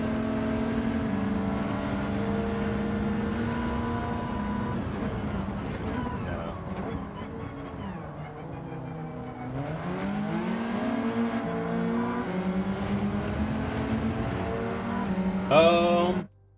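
Hyundai Elantra engine in Gran Turismo 7 pulls steadily at high revs, its harmonic whine sweeping up and down through gear changes, loud and continuous throughout with a brief spike near the end.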